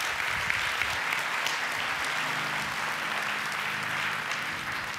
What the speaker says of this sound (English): Go ahead and give the Lord a hand clap of praise if you received anything.